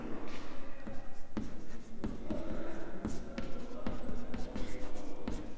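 Hand writing an equation about particle velocity much less than the speed of light, pen scratching steadily across the page in close continuous strokes with small taps, no talking.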